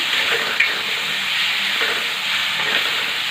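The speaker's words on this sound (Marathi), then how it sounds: "मोड आलेली मटकी टाकून या पद्धतीने मिक्स करून घ्यायची आहे" Sprouted moth beans get stirred into a hot masala frying in a pan, giving a close, loud, continuous sizzle and hiss with a light scrape of the spoon.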